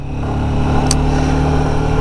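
A motorbike engine runs steadily and loudly throughout while being ridden, a constant low mechanical drone with no gaps and no talking.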